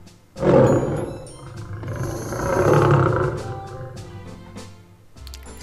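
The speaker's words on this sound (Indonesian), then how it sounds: "singa singa" A lion at a zoo lets out one long, loud roar that swells, holds for several seconds and trails off, heard alone with no talking.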